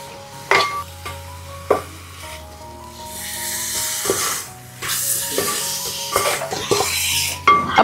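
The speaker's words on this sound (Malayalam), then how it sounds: "ഇനി ഇതെല്ലാം നന്നായിട്ട് ഒന്ന് ഇളക്കി യോജിപ്പിക്കാം." Chicken pieces are stirred into tomato masala in a pan, with close spoon scrapes and knocks against the metal over a steady sizzle, in an uneven rhythm of strokes.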